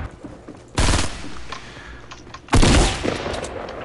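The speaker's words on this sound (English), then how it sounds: "I'm getting shot from two areas." Automatic gunfire in Fortnite comes in two loud rapid bursts, one early and one later, with quieter scattered shots and game ambience between them and no talking.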